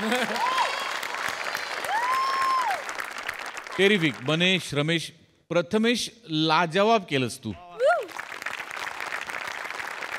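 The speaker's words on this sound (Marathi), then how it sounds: "स्वातीसाठी जोरदार टाळ्या." Audience applause at a Marathi comedy show: steady clapping through the opening seconds, then fading under someone speaking loudly and warmly, before the clapping builds again at the end.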